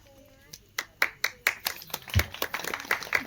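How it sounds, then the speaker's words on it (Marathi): An audience at a Bhim Sainik public lecture claps in sharp irregular bursts that gather into brief rhythmic applause, with someone speaking over it. "टाळ्या वाजवण्यामध्ये कंजूसी करू नका"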